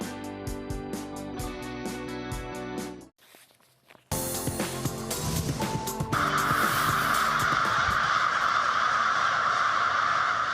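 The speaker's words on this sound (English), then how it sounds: "Thousands of crows descending on the city every evening" A crowd of crows caws in rapid, repeated calls, then a broad rushing roar like passing traffic takes over.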